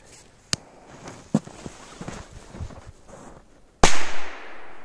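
Firecracker set off on snow outdoors: a few small cracks and crunching steps first, then one sharp, loud bang followed by a booming echo that fades.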